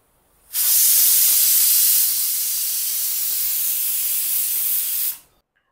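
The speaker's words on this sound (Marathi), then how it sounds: "आता आपण झाकण लावून घेऊया आणि 5 ते 6 शिट्ट्या देऊन घेऊया।" A loud, steady hiss of a pressure cooker whistle venting steam while cooking black chickpeas, starting abruptly and holding for several seconds before cutting off, with no talk.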